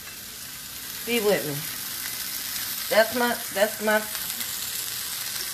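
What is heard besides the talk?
fish, peppers and onions frying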